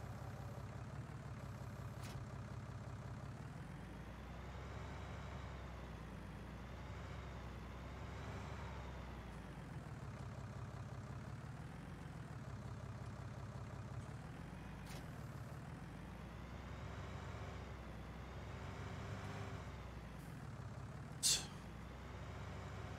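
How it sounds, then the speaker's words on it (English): An engine runs in a farming simulation video game, a faint, low steady drone that stays even throughout, with one brief click near the end. "I heard an engine as if something was running."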